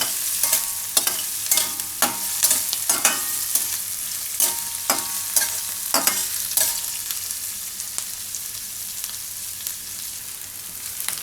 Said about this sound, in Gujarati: થોડીક વાર ડુંગળીને પકાવી લેવું, 1-2 મિનિટ માટે.